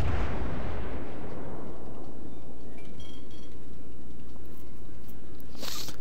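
Heavy naval gunfire from a warship in World of Warships, a loud opening boom at the start followed by a long rumbling decay and low-pitched drone, with faint distant crackles near the end.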